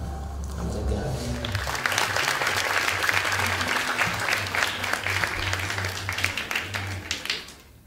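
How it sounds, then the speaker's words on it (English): A church congregation claps and applauds for people being baptized at an Easter Sunday baptism service, a broad, steady wash of many hands lasting several seconds with low musical hum underneath, fading toward the end. "let's just clap again for everyone that's getting baptized"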